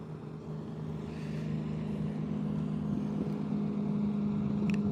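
A BoatUS towboat motor drones steadily nearby on the water, its low hum growing slightly louder as it passes, with no voices.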